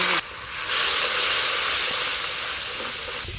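Ground cumin, coriander, chilli and turmeric with salt and a splash of water hit onion-ginger-garlic masala in a pan, a steady loud sizzle and hiss that jumps up right after the start and holds to the end, no voices.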